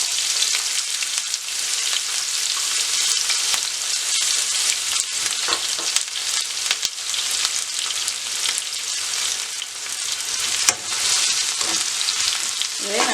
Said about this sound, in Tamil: அதுக்குள்ளே தான் நான் வெங்காயம் முதல்ல போட போகிறேன்.